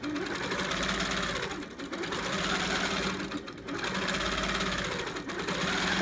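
Sewing machine stitching fast during free-motion quilting of a refrigerator-coil pattern, a steady close whirring run broken by two brief slowdowns.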